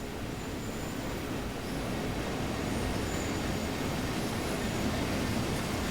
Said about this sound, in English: You'll see freight trains going over.